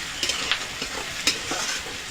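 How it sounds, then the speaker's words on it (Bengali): Chopped garlic frying in a pan for a desi chicken dish, a steady close sizzle broken by a few quick spoon scrapes and stirs, with no speech. "রসুনটা দিয়ে দেবো। এবার এটা ভেজে নেব।"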